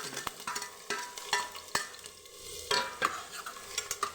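Finely chopped garlic frying in a pan for a Rajasthani Marwari chutney, stirred with a utensil: steady close sizzle punctuated by repeated clicks and scrapes against the pan.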